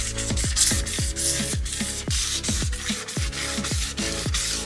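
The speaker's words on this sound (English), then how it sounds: "now that the center caps are off, we can get to the sanding" Rhythmic sanding strokes rasp back and forth against a metal wheel rim, loud and close, steady and repetitive, with no voices.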